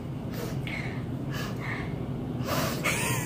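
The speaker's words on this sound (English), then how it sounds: "Would you quit sniffing it?" Someone sniffs at a weird food combination, several short, close nasal inhales and breathy snorts in quick bursts over a low background hum.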